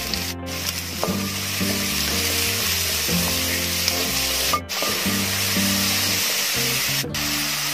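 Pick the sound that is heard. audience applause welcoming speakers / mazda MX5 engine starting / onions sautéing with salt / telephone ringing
onions sautéing with salt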